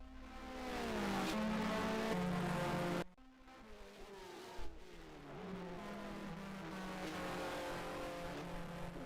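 Formula 1 race car engines from the Grand Prix 2 video game, 1990 Spanish Grand Prix, roar loudly with high revving tones, cut abruptly at about three seconds, then resume at a steady drone.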